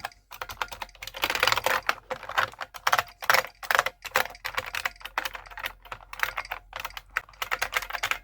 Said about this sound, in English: Clicking those keys, of course.